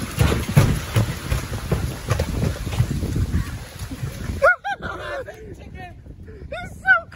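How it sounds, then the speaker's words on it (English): Rain falling outdoors during Hurricane Ian, a dense steady hiss for several seconds that then drops away, followed by nearby honking goose-like calls and voices speaking. "So as you can see, it's like rain."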